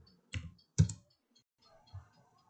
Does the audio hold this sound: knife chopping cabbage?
no